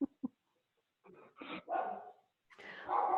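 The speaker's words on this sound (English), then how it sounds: "Oh, that's my dog." A pet dog at home barks two quick sharp yips, then gives a few softer whimpering and grumbling barks, close by and fairly quiet, with no talk over it.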